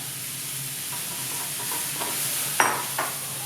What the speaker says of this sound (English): I'm now going to be adding in some spinach.